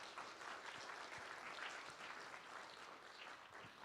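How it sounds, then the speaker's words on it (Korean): Audience applauding at a university award ceremony during a staff worship service, a continuous even patter of many hands at a soft, distant level throughout. "큰 박수로 축하해 주시면 감사하겠습니다."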